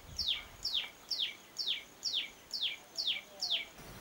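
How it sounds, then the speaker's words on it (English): A tailorbird in Mysuru, India repeats a sharp, high chirping call about every half second, eight evenly spaced notes, clear and fairly close over quiet background. "That was Tailor bird."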